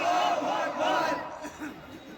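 A crowd at a Bengali Islamic religious gathering shouts the takbir in unison, a loud, sustained chorus of many voices that swells and then fades slightly over about two seconds.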